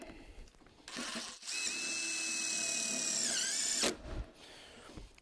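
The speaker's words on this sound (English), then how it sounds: "So you go ahead and put in all the screws for your rafter hangers." Power drill driving screws into pergola rafter hangers: a short whirring burst that rises and settles into a steady whine for about two seconds, then stops, close and fairly loud with no speech.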